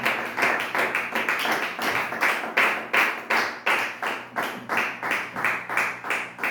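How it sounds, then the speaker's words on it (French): A church congregation at a Sunday prayer service claps together in a fast, steady rhythm, loud and close, the sharp claps repeating evenly without pause. "Est-ce qu'on peut acclamer encore très fort le Seigneur?"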